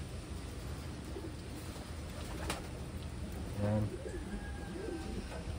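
Taiwan pigeons kept close by, one soft low coo rising briefly midway through a quiet background, with a short spoken word from a nearby person.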